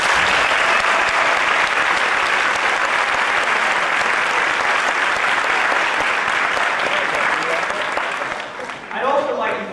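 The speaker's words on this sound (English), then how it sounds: "We can have an applause now for them." Audience applause at a school band concert, sustained clapping from a large crowd filling the room for about eight seconds before fading, with a voice beginning to speak at the end.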